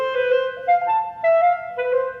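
Clarinet running a short passage of sixteenth notes in a dotted, swung rhythm, close and clear solo tone with uneven long-short note lengths, no voices.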